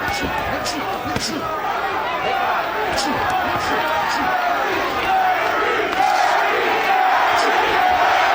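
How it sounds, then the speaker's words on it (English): A boxing arena crowd at a title fight chants a fighter's name, a dense, loud, continuous roar with rhythmic surges and occasional sharp claps or slams throughout. "Crowd starting to chant, Curry, Curry, Curry."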